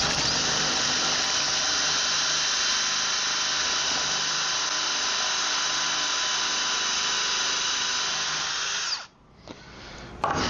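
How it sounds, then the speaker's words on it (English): A power drill boring a 5/16-inch hole for threaded rod in a tabletop runs at a steady high whine for about nine seconds, close and loud, then stops abruptly and briefly restarts. "We'll drill a 5/16"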